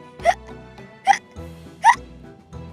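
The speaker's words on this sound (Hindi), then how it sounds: "उसकी हंसी हिचकी में बदल गई" A cartoon hiccup effect from a Hindi children's animation repeats three times, each a sharp, squeaky gulp spaced evenly about a second apart over a quiet musical backing.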